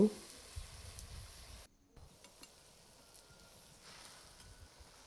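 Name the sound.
washed leafy greens frying in a pan with garlic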